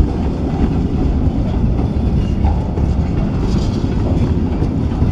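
A freight train towing a Russell snow plow rolls past close by, a steady loud rumble of wheels and cars with faint clickety-clack, continuous and without talk.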